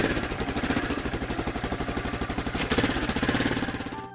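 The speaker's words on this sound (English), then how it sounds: "scooter" Scooter engine running with a rapid, regular pulsing putter, loud and close, with a brief surge partway through before cutting off abruptly.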